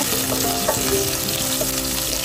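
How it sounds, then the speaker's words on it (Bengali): Chopped onion, garlic and dried chili frying in oil in a wok, a dense steady sizzle with stirring scrapes throughout, close and fairly loud, no voices. "প্রথমে আমি তেল দিয়েছি একটা কড়াইতে, এরপরে পেঁয়াজ কুচি, রসুন কুচি আর শুকনো মরিচ দিলাম।"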